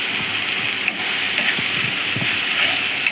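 Spice masala and tomato paste for a chicken curry frying in a pan, a steady close sizzle with faint scraping stirs throughout, no voices.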